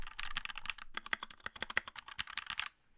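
Typing on a Redragon K617 HE Hall effect keyboard with lightly lubed linear switches, a steady run of close, fast keystroke clacks with brief pauses, no voices.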